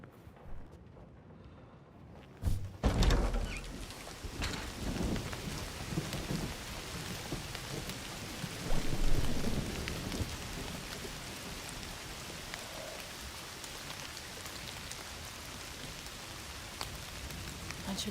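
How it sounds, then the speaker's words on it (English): Steady rain pours in Indiana Jones and the Great Circle, with a sharp thunder crack near the start and a dense, even hiss of drops continuing throughout, with occasional low rumbles. "Don't you love rain?"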